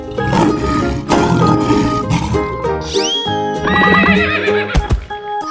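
A cartoon horse gives a loud, bright whinny with rising and falling pitch sweeps, following busy animated sound effects and clip-clop hooves, ending with short sharp accents.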